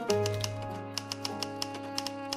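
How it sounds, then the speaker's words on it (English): Art markers shuffled around on a cluttered desk, a series of light plastic clicks and taps scattered irregularly over steady low background tones, close and fairly quiet. "You can probably hear it as I like shuffle my markers around."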